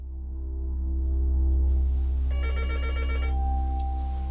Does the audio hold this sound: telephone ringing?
yes